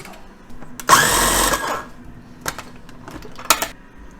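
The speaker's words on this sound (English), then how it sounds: "we're gonna blend this until it forms a paste" A food processor blends gyro meat into a paste, roaring loudly for about a second, then giving a few shorter whirring pulses.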